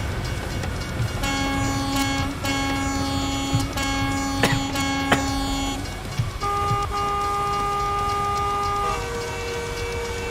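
A train horn in American Truck Simulator blares in long steady chord blasts, several held tones shifting pitch, over a constant rumble of truck engine and road noise.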